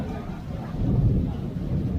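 Rain falling outdoors with a low rumble of thunder, a steady broadband wash that swells slightly midway through, with no voices.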